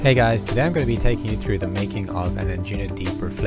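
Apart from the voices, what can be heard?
None of the usual background noises is heard.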